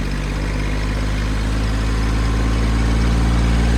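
A tractor engine runs steadily on a high-altitude mountain road in Spiti, struggling to pick up power in the thin air; a loud, continuous low drone with a constant rumbling hum and no voices.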